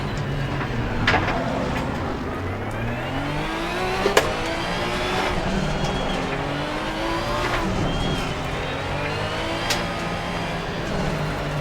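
Racing car in the Assetto Corsa driving game, its engine loud and close as it revs up and shifts through repeated rising pitch sweeps, with brief tire squeals and braking dips across the run.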